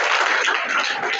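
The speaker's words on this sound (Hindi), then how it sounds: "और सही जवाब के लिए आप लोग तालियां बजाइए" Students in a school classroom clapping together after a correct quiz answer, a short dense burst of applause with no talk over it.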